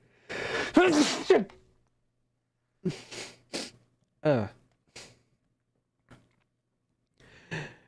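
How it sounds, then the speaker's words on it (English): A person sneezes once near the start in a short burst, followed by a few quieter breaths and soft vocal sounds separated by silence. "I need to sneeze."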